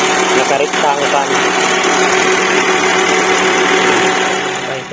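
A Chery QQ engine runs steadily at idle, a continuous close hum with a faint buzzing layer. Someone talks over it throughout.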